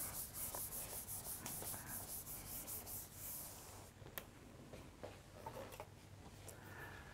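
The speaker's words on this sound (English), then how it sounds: "I'm erasing this part" An eraser rubs across a board during a physics lesson on vibrating air columns, giving repeated scrubbing strokes in a steady back-and-forth rhythm that thins out into scattered short rubs, close and fairly quiet with no talking.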